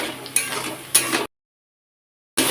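A spice masala is stirred and fried in a pan with a little water: scraping stirs and a soft sizzle, with two sharper clinks of the spoon, then a sudden silence before the sizzling stirring resumes.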